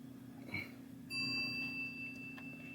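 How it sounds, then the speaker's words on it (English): A bell on a 1972 Williams pinball machine rings once, near and fairly loud, its tone sustaining and fading over a steady low mechanical hum. "You heard that bell."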